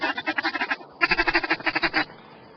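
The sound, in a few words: voice imitating duck feeding chuckle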